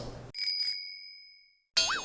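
A bicycle bell rings twice in quick succession, bright metallic dings that ring on and fade slowly into silence, followed by a burst of other noise.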